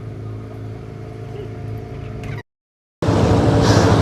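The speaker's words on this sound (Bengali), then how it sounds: "এগিয়ে চলেছে আমাদের বোট" A boat running on the Honnavar backwaters in Karnataka gives a steady, loud motor drone with rushing water. A brief dropout breaks it before the engine noise returns even louder.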